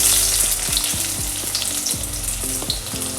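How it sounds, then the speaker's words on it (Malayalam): Two medium onions, sliced lengthwise, sizzle loudly in about two teaspoons of hot oil in a cooker for Kerala-style chickpea curry, with steady crackling and a few stirring knocks. "2 മീഡിയം സൈസുള്ള ഉള്ളി നീളത്തിലരിഞ്ഞത് ഇത് ചേർത്ത് കൊടുക്കാം"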